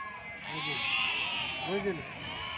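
Sheep at the Gudur weekly livestock market bleat twice, short wavering cries near the mic, rising over a steady background of talk and noise.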